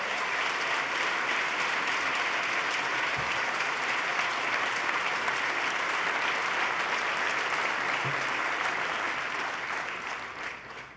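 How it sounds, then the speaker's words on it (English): Steady applause from a large audience at a governor's State of the State address, a dense wash of clapping that holds for several seconds before tapering slightly at the end. "Let's give him a big round of applause and thank Sean Donovan for his partnership"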